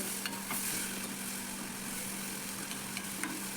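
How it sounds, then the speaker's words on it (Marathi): Onion, tomato and masala frying in a covered pan for a Malvani-style radish dish, giving a steady, even sizzle under a faint low hum, with no talking. "मसाले कांदा आणि टॉमॅटो आहेत ना ते पटकन भाजून निघत आहेत"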